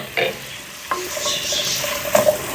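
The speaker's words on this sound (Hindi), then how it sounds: "इनको थोड़ा सा फुल फ्लेम पर हम पकाते हैं।" Chicken with onion and capsicum frying in a pan on full flame: a few close spatula scrapes and clanks over a steady sizzle, brief and without talking.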